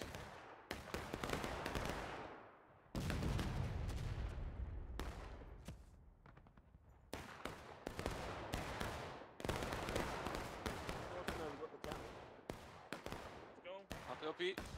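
Musket gunfire in the video game War of Rights, many sharp loud shots from a line of soldiers, some clustered in volleys, others scattered, with voices shouting between them.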